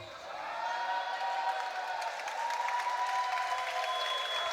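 Crowd applauding and cheering at a men's Division 1 college basketball final in an indoor arena, a steady wash of clapping that swells quickly and holds, with a few voices calling out beneath it.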